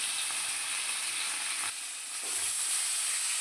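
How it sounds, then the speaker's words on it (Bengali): Turmeric-and-salt-coated fish sizzles in hot, spattering oil in a pan, a constant close hiss with small crackles and no talk. "এখানে মাছ ভাজা হচ্ছে, মাছ ভাজা হলুদ দিয়ে নুন দিয়ে মাখিয়ে মাছের মধ্যে তেলে দিয়ে দিয়েছে, ভাজা হোক, তেল ছিটকাচ্ছে।"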